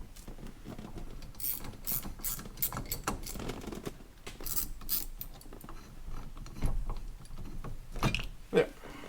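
Steering wheel puller being threaded into the steering column of a Chevelle during an ignition repair, giving a soft, steady ratcheting and grinding of metal parts that carries on throughout.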